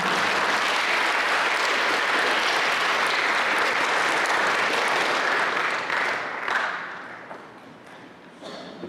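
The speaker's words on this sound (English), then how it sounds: "Big round of applause for everyone." Listeners at an English-language Dharma talk by a Buddhist monk break into sustained applause, a thick roar of many clapping hands that stays loud for several seconds before thinning out and fading toward the end.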